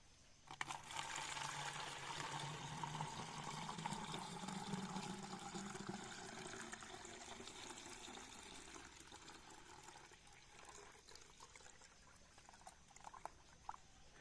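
A flour-based liquid mixture for fermenting a plant fertilizer pours steadily into a container, a close continuous splashing flow that thins and fades toward the end.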